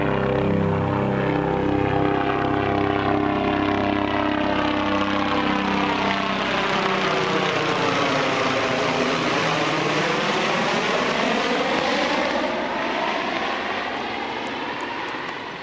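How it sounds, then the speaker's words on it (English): Tourist helicopter making a loud pass low overhead above ridges along the Koyukuk River in remote Arctic Alaska, its rotor and engine drone swelling and shifting pitch as it sweeps by, steady and continuous with no talk. "Well, Mr. Helicopter's coming back."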